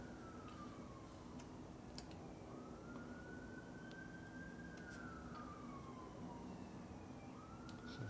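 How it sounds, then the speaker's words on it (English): A faint ambulance siren wails far off, its pitch slowly rising and falling in long sweeps over a steady low background hum. "The ambulance comes from a long ways away."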